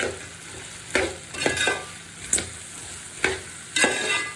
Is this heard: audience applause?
no